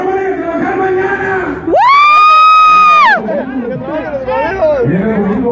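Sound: party crowd shouting and cheering

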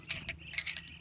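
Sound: metal spanners clinking

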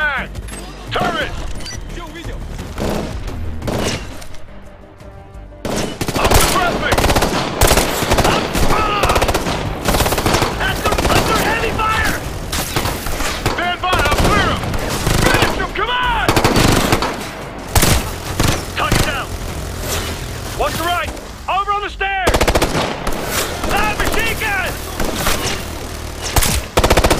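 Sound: turret machine gun fire in video game Ghost Recon Future Soldier

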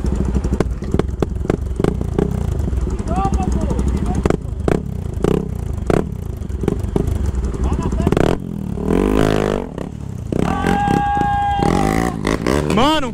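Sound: Honda Bros 160 motorcycle engine after crossing a river

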